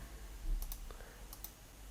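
Mouse clicks on a computer while inserting a screenshot in Microsoft Word: two quick pairs of sharp clicks, close and quiet, with no talk.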